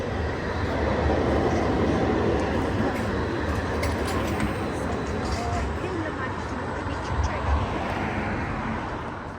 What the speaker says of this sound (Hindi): ये ट्राम आ रही है जी एयरपोर्ट के लिए।